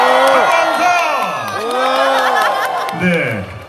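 Loud crowd at a Korean temple mountain concert cheering and shouting, with whoops and high children's voices rising and falling in waves, close and continuous.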